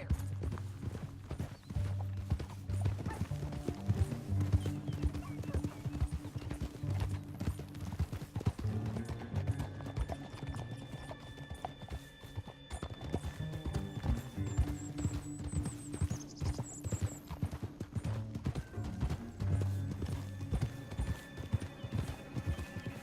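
Continuous clip-clop of galloping horse hooves in the video game Red Dead Redemption 2, with rhythmic thuds, a horse whinnying, and faint mechanical whirs in the background.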